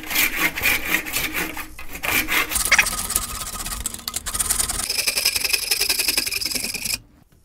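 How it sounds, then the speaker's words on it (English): An old Marples pull saw with missing teeth cuts wood flush against cement in steady rasping strokes, close and loud, the rhythm quickening into continuous scraping before stopping abruptly. "I'm gonna use this old Marples pull saw with some missing teeth here"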